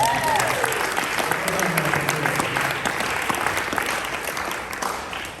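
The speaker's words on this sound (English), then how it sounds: "Give Jackie another round of applause" A crowd at a Boca Chamber event gives Jackie another round of applause, a full, sustained burst of clapping with murmured voices and a brief cheer mixed in, tapering slightly toward the end.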